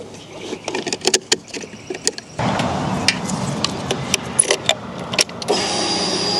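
Starter of a 2025 CFMOTO 675 SS motorcycle cranking close by, a series of clicks and ticks at first, then a steady churning whir for several seconds, ending in a brief louder burst.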